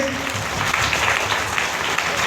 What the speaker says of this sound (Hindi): उन सबों के लिए जोरदार ताली होनी चाहिए